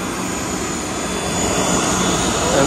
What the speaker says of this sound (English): So nice to look at the plane from this perspective.